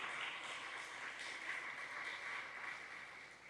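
Church congregation applauding during a Spanish-language sermon, a dense steady wash of many hands clapping together at moderate distance, sustained then thinning slightly at the end.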